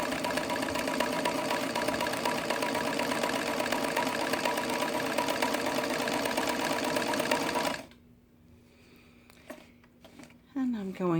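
A New Home Model 532 sewing machine runs at a steady, fast stitching hum for about eight seconds, close and loud, then stops, leaving quiet room sound and a few light clicks.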